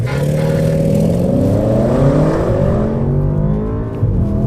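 Audi S8 engine accelerating hard, a loud, close, continuous roar with rising harmonic pitch as revs climb through the gears, heard alone without talk.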